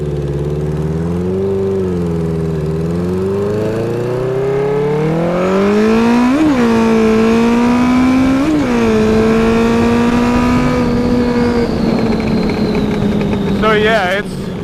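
A rebuilt 1980 Honda CB900C motorcycle accelerates hard on a test ride, its engine note climbing loud and close through the gears with brief dips at each shift, then holding a high roar.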